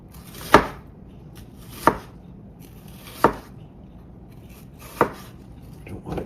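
A knife slicing an onion on a cutting board, giving five crisp, evenly spaced chops about a second and a half apart, close and distinct against a quiet background.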